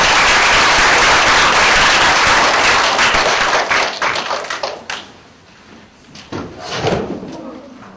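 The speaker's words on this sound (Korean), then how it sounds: "큰 박수로 한번 환영해드리겠습니다" Loud audience applause welcoming a speaker at a Korean lecture hall event, a dense burst of clapping for several seconds that thins out into scattered claps and brief chatter.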